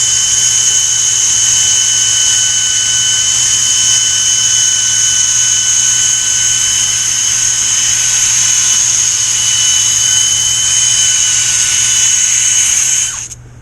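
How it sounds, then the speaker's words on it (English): A steady high-pitched whine of a small part spinning on a lathe or drill while being sanded during a Vbox Cracker Box kit hardware build, loud and continuous for about thirteen seconds before cutting off. "Then I am just going to spin and sand this before and after the anneal."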